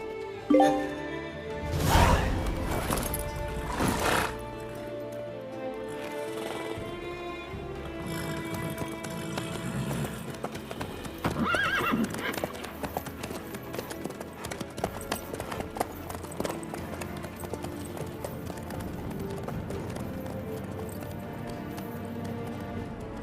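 Horse hooves clip-clop steadily in The Witcher 3, a continuous even rhythm of hoofbeats running throughout alongside music and ambient game sound, with a louder swell near the start.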